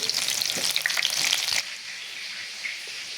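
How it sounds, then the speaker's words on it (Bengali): Gram-flour battered potato chops frying in a wok make a loud, dense sizzle with crackling spatters, dropping abruptly to a quieter steady bubbling partway through. "আম্মু আলুর চপগুলোকে এভাবে বেসনের মধ্যে চুবিয়ে তারপর কড়াইয়ে ছেড়ে দিচ্ছে"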